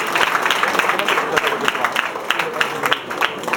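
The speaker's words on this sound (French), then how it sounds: "Allez, on les applaudit, vous les encouragez." Audience applauding at a Muay Thai / MMA demonstration, a steady, dense patter of many hands clapping throughout, fairly loud and close, with a voice speaking over it.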